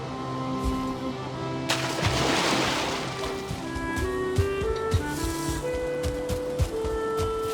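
Water churns and splashes as a character wades across a small river in the game Valheim, a continuous washing surge that swells early and then settles into steady sloshing with scattered tonal game sounds layered over it.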